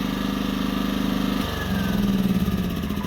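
A small off-grid cabin generator engine idles roughly, then throttles down as it is shut off, its low chugging rhythm shifting and slowing, close and loud with no talk.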